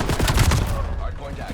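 Rapid gunfire in a Halo-style multiplayer video game, a dense burst of loud overlapping shots that thins out within about a second.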